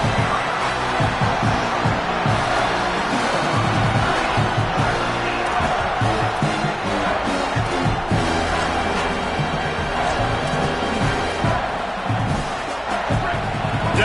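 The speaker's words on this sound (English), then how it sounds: "Decibels rising as the crowd gets behind this defense on 3rd down." Stadium crowd at a college football game, Michigan versus Iowa, building on a third-down defensive stand: a dense, steady roar of many voices swelling throughout, loud and continuous with no clear commentary over it.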